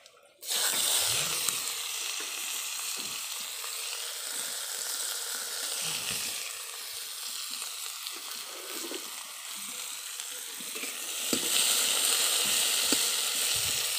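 Chopped onion dropped into hot oil with bay leaf and whole cumin, a sudden burst of sizzling that settles into a steady loud hiss, swelling again near the end with a few light stirs.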